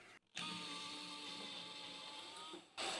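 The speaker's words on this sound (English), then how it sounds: "I'm drilling through the board and then just making a little divot in the ceiling." A power drill whirs steadily for a few seconds drilling through a board into a campervan ceiling, a continuous motor whine that starts abruptly and cuts out near the end, close by.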